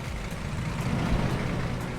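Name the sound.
large bus passing on the road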